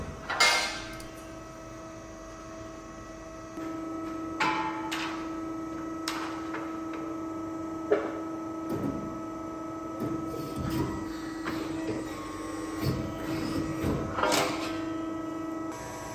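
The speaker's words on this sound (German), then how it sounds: "Hier einfach so ein Blech reinlegen, drückt auf den Knopf und ist absolut perfekt gekantet." A press brake bending aluminium sheet metal for a self-built camper cabin hums steadily while clunks and metallic knocks ring out at intervals, fairly close in a workshop.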